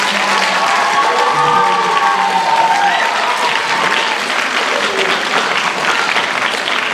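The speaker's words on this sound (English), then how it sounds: "So let's give Miss Crouch a huge round of applause." An audience at a school poetry slam claps and cheers in a loud, sustained burst of dense applause that holds steady throughout, with some crowd voices mixed in.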